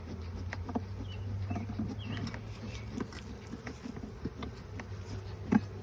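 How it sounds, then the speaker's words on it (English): A steady, dense buzzing of many honeybees around a hive, a continuous droning hum with scattered faint outdoor noises and a brief louder bump near the end. "Oh, a bunch of bees on the side."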